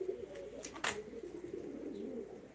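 A pigeon at a Turkish bird auction coos softly in low repeated phrases, with a brief sharper chirp or flutter standing out near the start, faint and fairly close.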